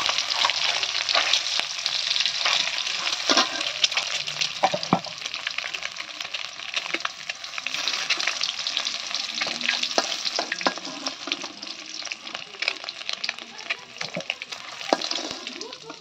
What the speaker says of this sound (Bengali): এদিকে ডিমটা ভাজতেছি